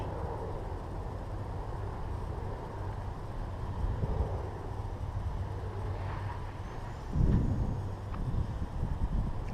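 Wind buffets a microphone outdoors while a micro RC helicopter is flown, a steady low rumble running throughout with a brief louder gust near the end.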